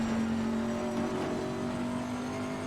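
A GT3 race car engine in the racing game Assetto Corsa Competizione gives a steady, sustained drone with a held tone and little change in revs, with no talk.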